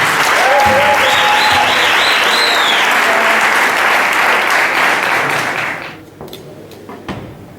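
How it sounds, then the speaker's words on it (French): A comedy festival crowd applauds itself, loud dense clapping that holds steady before tapering off sharply near the end, leaving a few scattered claps and quiet room noise. "je voudrais nous dire merci à nous tous et nous demander de nous applaudir nous-mêmes"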